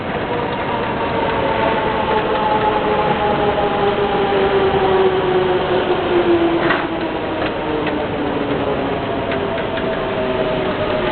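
A London Underground train rumbles continuously along the platform, its tone gliding downward as one train pulls away, with clicking rail noises as the next one approaches; no voices.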